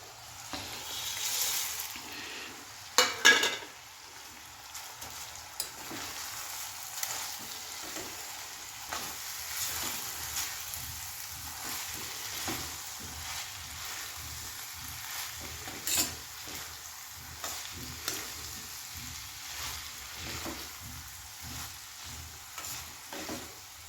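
Papad pieces are stirred into sizzling dried fenugreek in a pan, a steady soft frying hiss broken by scraping stirs and occasional louder clinks, with no talking.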